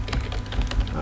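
Fast clicking keystrokes on a computer keyboard while entering text into a portfolio website page, quiet and close with a steady irregular tapping rhythm, no talking.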